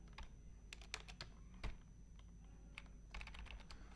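Text typed into a document in MS Word on a computer keyboard: quiet, close keystrokes in uneven bursts with short pauses, no talking.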